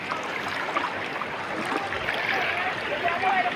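Underwater gurgle and rushing of a clear river as a camera is dipped into it, a continuous bubbly wash of water close to the microphone.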